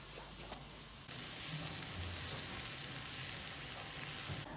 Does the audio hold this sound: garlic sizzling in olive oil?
yes